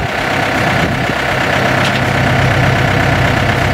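A combine harvester's engine idles loud and close, a steady rumbling drone with no break, no voices over it.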